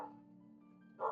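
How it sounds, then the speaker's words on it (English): A pet dog barks once or twice nearby, a short, moderately loud burst at the end that follows a quiet stretch of faint, steady background tone. "Sorry, that's my dog."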